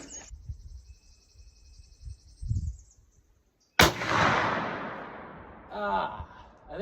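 A single 45-70 Government rifle shot with a Winchester load fires outdoors, a sharp loud crack followed by a long fading echo, with quiet ambient sounds before it and speech afterward.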